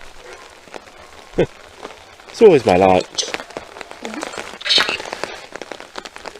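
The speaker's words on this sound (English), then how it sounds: "the rain is getting heavier" Steady rain falling in woods at night, a faint constant patter on leaves and ground beneath intermittent speech and a few louder bursts of other sounds.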